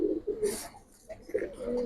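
Domestic pigeons of a silver-marked fancy breed coo softly in a short, close rhythm of low murmuring calls, with a brief higher flutter of noise partway through.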